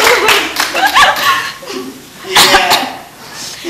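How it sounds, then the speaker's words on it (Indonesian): Studio audience at an Indonesian TV comedy talk show claps hands in two short bursts of applause, loud and close, mixed with voices and a bit of laughter. "Tepuk tangan lagi lah."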